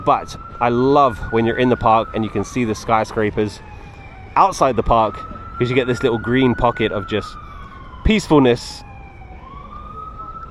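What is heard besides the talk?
police car siren in a city park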